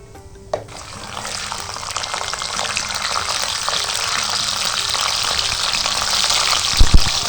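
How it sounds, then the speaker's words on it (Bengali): Raw peanuts hit hot white oil in a wok with a soft plop, then a sizzle builds and holds steadily up close, ending with a couple of sharp knocks against the pan. "ভাজছি তো, বাদামটা ভাজি"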